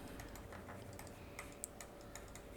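Soft, faint keystrokes on a computer keyboard while writing Python code, scattered irregular clicks over a steady low room hum with no talking.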